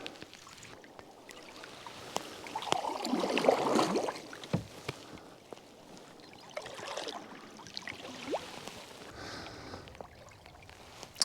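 A solo canoe glides on Loch Laidon on remote Rannoch Moor, paddle strokes dipping and pulling through the water in slow swells of splashing and trickling, close and fairly quiet.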